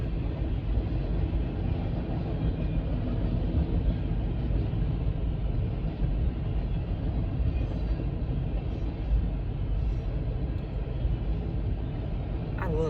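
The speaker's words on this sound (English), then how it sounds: "I love trains." A train rolls past in Georgia, a steady loud rumble with wheel and carriage noise holding constant the whole time, close by and unbroken.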